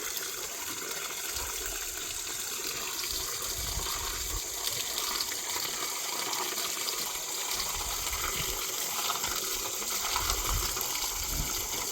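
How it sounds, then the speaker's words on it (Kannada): Steady rushing water runs continuously from a tap, with low gurgling and splashing underneath as an elephant drinks from the stream. "ನೋಡಿ ಹೆಂಗೆ ನೀರು ಕುಡಿತಾವನೆ ಅಂತ ಟ್ಯಾಪಲ್ಲೇ ಕುಡಿತಾವನೆ"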